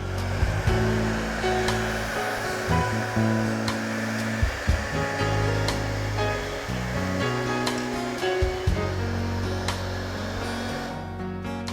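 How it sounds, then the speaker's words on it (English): A hair dryer blows continuously on a glass bottle coated with transparent crackle paint base, producing a loud, steady whooshing roar with a faint motor whine and slight wavering airflow. "Now we will dry it with a hairdryer to accelerate the work."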